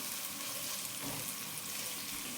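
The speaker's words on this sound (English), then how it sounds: "let's fry this for about 3 minutes or until the onions are golden brown" Onions and pepper fry in a pan for a curry, producing a steady, even sizzle throughout, close and moderately quiet with no talking.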